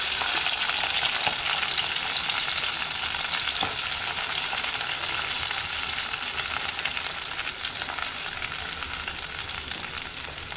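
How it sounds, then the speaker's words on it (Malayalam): Chopped vegetables hiss and crackle loudly in hot oil in a pan, a dense continuous sizzle that holds up close for the whole stretch and tapers only slightly toward the end. "ഇത് ഇവിടെ എണ്ണ ചൂടായിട്ടുണ്ട്. അപ്പോൾ ഞാൻ ഈ അരിഞ്ഞ് വെച്ചേക്കണ എല്ലാം അങ്ങോട്ട് ഇട്ട് കൊടുക്കാം"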